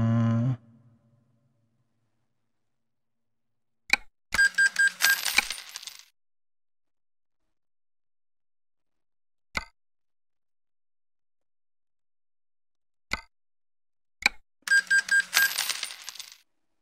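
Coin purchase chimes from Euro Truck Simulator 2 while buying a garage, heard as two separate bursts of jingling coins a few seconds apart, with a few sharp clicks in between and near silence otherwise.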